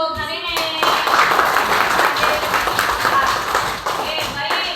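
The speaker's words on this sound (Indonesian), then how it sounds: "tepuk tangan dulu untuk hari ini." Classroom of fourth-grade students clapping together in a sustained burst of dense hand claps that fills most of the moment, close and fairly loud, with a quieter start and a slight tail-off at the end.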